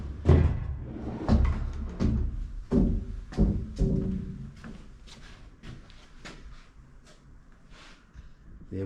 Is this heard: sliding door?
yes